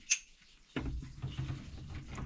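Water drains out of a sink basin after a brief metallic clink, then comes a low, rumbling gurgle that keeps flowing close by.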